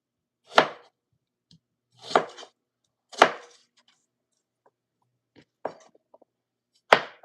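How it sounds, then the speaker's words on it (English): A knife cuts red potatoes into small pieces on a cutting board, giving six sharp, separate chops spaced roughly a second apart, close and clear with silence between strikes. "I try to cut the potato into the smallest pieces possible so they cook faster"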